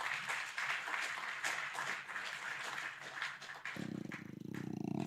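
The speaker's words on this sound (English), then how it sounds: "Can we please give him a round of applause?" Audience applause welcoming a former prime minister of Guinea at a day-three conference session, a steady wash of clapping that shifts near the end into a lower, rougher crowd roar.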